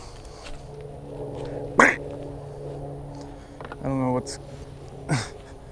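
Two or three short, loud quacking bursts from a duck stand out over a low background hum, with a brief rattling honk from a swan in between.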